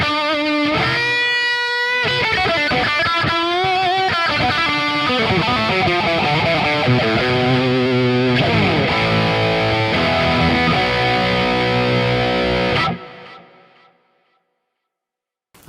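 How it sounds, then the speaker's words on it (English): Electric guitar, a 2006 Fender 60th Anniversary Standard Stratocaster (Mexican-made), played with a gritty overdriven tone, chords and single-note runs ringing with reverb and echo, steady and loud, then cutting off near the end. "Let's hear what it can do with some dirty overdriven tones."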